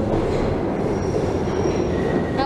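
A London Underground train rumbles past near Piccadilly Circus station, a steady loud roar of wheels on track with faint high squealing and a brief sharp screech at the end.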